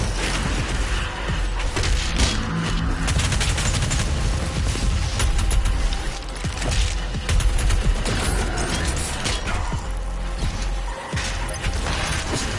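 Rapid bursts of micro missiles firing in the video game Doom Eternal, a dense, loud, continuous barrage of explosive blasts and crashes that lasts throughout, with a brief dip midway.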